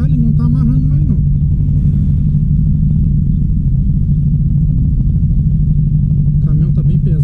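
A VW Beetle (Fusca) engine running on alcohol fuel with dual carburetors gives a steady, loud, close low rumble throughout, with voices briefly at the start and end.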